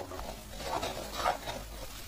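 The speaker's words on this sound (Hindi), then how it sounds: "चारों तरफ से हम इसे घुमाते हुए चलाते रहेंगे क्योंकि किनारे हमारे लगने लगते हैं।" A spoon scrapes and stirs homemade desi ghee around the sides of a heavy pot, soft rhythmic scraping over a faint steady sizzle, close up with no voices.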